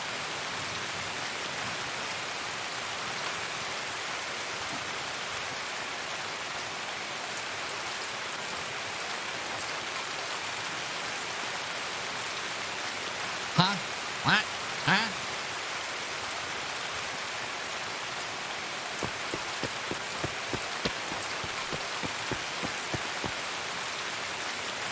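Steady, even hiss of rain falling in the shooter game Escape From Tarkov fills the whole stretch, with a few sharp metallic clinks near the middle and a short run of faint ticking hits later on.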